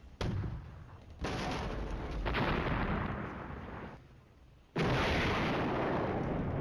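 Artillery fire in the wargame Flashpoint Campaigns: Red Storm, several loud booming blasts with rumbling decay, the heaviest bursts near the start and at about the five-second mark, with no talk over them.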